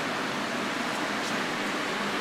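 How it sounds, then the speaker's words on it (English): Heating units in a wood stove factory warehouse give off a steady, loud, broadband rushing hiss like forced air, constant throughout with no pauses. "Background sound you can hear is the heating units operating."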